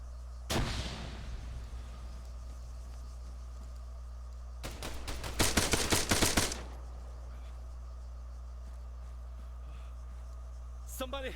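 Gunfire in the video game Arma 3: a sharp shot early on, then a rapid cluster of loud bursts around five to six seconds and a final shot at the end, over a steady background hum with occasional talk.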